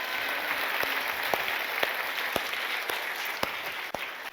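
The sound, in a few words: congregation applause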